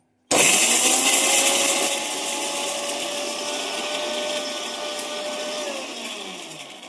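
A kitchen mixer grinder grinding rock sugar starts abruptly with a loud whirring buzz that holds for several seconds, then its pitch slowly sinks as it winds down.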